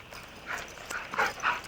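Dogs bark in short, separate bursts, several sharp yaps spaced over a couple of seconds, moderately close in an outdoor yard.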